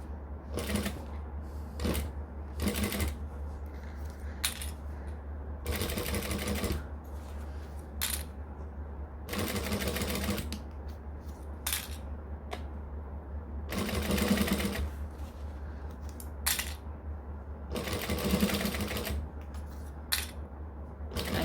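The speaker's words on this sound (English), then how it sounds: "Literally just sewing like one clip's worth at a time and then readjusting." Sewing machine stitching binding on a Donna by Swoon bag in short bursts, each run of stitches stopping and restarting as the fabric is readjusted, steady and close against a low background hum.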